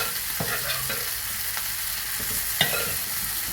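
Pork sizzles and is stirred in a hot pan, a steady loud frying hiss broken by occasional scraping clacks of the spoon, with no talking.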